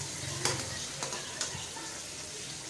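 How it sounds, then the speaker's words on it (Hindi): About a cup of peas frying lightly in a pan gives a steady, fairly loud sizzle, with a few sharp spoon or spatula scrapes from stirring and no talking. "इसमें डालेंगे मटर 1 कप के करीब और इसको हल्का सा फ्राई करना है हमने"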